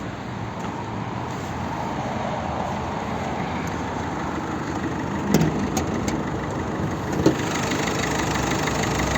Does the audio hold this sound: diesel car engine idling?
yes